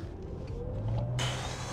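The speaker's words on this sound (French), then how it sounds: "On a un petit bruit artificiel en mode sport, c'est assez sympa." An electric Maserati GranTurismo accelerating hard in sport mode, its artificial drive sound a low rising synthetic hum close up inside the cabin, joined near the end by a sudden burst of road and wind noise.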